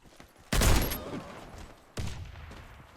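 Two loud shotgun blasts from a video game, about a second and a half apart, each a sharp boom with a trailing echo.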